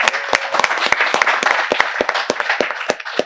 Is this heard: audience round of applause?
yes